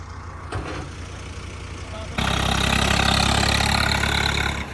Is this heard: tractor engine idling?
yes